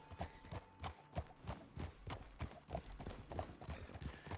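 Horse hooves clip-clopping in a steady, even rhythm, close and fairly quiet, with no talking over it.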